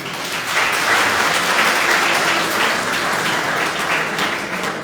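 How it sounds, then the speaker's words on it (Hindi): Steady, dense clapping from a seated audience at a spiritual talk on the Vedas, sustained for several seconds at an even level with no voices breaking through. "वेरी गुड, आप सबके लिए तालियां।"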